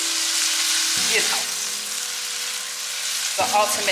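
Shrimp fry in a pan for fried rice, giving a loud, continuous close sizzle. Brief scraping stir sounds break in twice.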